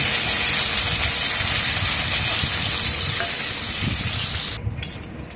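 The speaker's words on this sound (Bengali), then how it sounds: "এবার আমি কাজু আর কিশমিশটাও এই তেলে ভেজে নেব" Cashews and raisins fry in hot white cooking oil, giving a loud, steady sizzle and hiss with occasional stirring scrapes before the noise drops off near the end.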